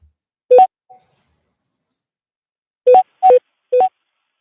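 Telephone keypad touch tones from a caller dialing into a public meeting line: one short beep, a long pause, then three quick beeps in a row, clean against silence.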